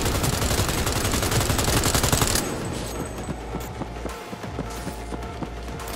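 Rapid automatic gunfire in a Cyberpunk 2077 boss fight rattles loudly for about two seconds, then gives way to quieter scattered footsteps and lighter shots over a continuous game backdrop.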